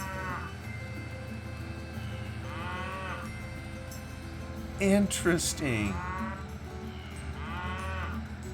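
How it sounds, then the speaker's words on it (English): Cattle mooing in the video game Farming Simulator 2011, several drawn-out moos repeating over steady game background noise, with a brief burst of other sounds in the middle and a single spoken word. "We'll forgive him for playing cattle sounds while we're unloading hogs."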